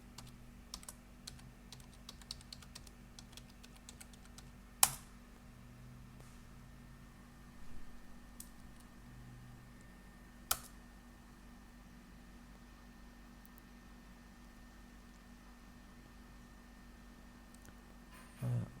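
Password typed on a computer keyboard, quick soft key taps in bursts with a couple of louder, sharper key strikes, faint steady background hum, no talking.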